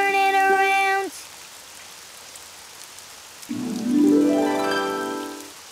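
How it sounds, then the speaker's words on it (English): A soft, steady hiss of falling rain runs throughout, while sustained tonal notes sound at the start, then a rising tone later, over the rain. "Oh, it's raining outside."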